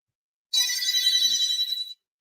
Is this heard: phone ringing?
yes